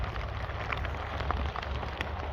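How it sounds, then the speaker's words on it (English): Cold rain falls steadily outdoors in harsh weather, a dense continuous patter with occasional louder drops, close and unbroken with no voices. "It's not a warm rain."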